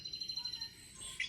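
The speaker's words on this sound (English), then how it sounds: "Go get that birdie." Bird chirps from a TV program that a cat is watching, a few short faint tweets indoors over a soft room hum.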